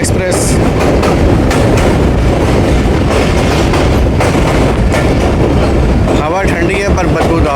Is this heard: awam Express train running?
yes